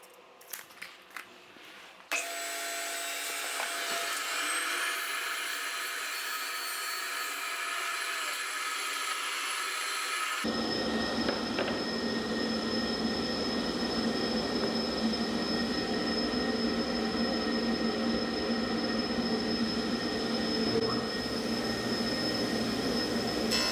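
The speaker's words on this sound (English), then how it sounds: "I'm just gonna cut a couple of boards so that you can give me some feedback also on the noise level of the machines" Woodworking machines in a shop cut wooden boards, with a few sharp knocks first, then a machine spinning up into a steady high whine and later a louder, fuller roar of cutting that holds to the end, with no talking.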